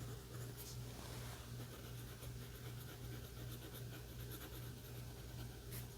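A pencil drawing on paper for a kids' sandwich illustration, scratching in a steady, continuous texture close by with a low hum underneath and no talking.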